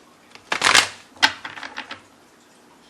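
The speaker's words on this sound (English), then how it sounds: "Let me shuffle the Chakra Wisdom deck" A Chakra Wisdom card deck being shuffled by hand, a few quick papery riffles and flicks close to the listener, with one dense burst followed by lighter scattered snaps.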